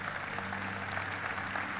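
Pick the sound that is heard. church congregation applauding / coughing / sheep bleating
church congregation applauding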